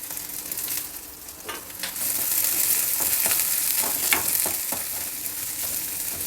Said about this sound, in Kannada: ಎಣ್ಣೆ ಬಿಸಿಯಾಗಿದೆ ಸಾಸಿವೆ ಹಾಕಿದೆ ಇದು ಸಿಂಪಲ್ ಒಗ್ಗರಣೆ ಈರುಳ್ಳಿ ಮೆಣಸಿನ್ಕಾಯಿ ಹಸಿಮೆಣಸಿನ್ಕಾಯಿ ಮತ್ತು ಶುಂಠಿ ಬೆಳ್ಳುಳ್ಳಿ ಸ್ವಲ್ಪ ಸಣ್ಣದಾಗಿ ಹಚ್ಚಿಟ್ಕೊಂಡು ಹಾಕಿದ್ದೀನಿ